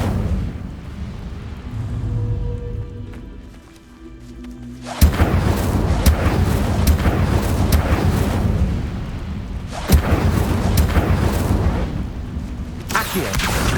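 An Incendio fire spell cast in Hogwarts Legacy bursts in with a heavy whooshing roar after a quieter stretch, then sustained fiery rumble and booming hits continue, punctuated by sharper impacts.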